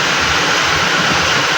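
A river swollen by suddenly rising water rushes past in a steady, loud, broadband roar with no let-up and no voices.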